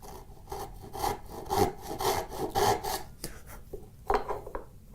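Hand saw cutting a wooden dovetail joint, a series of rhythmic rasping back-and-forth strokes, close and fairly loud, that slow and thin out toward the end, with no talk.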